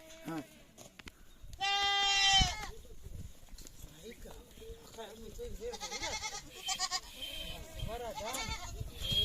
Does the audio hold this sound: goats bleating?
yes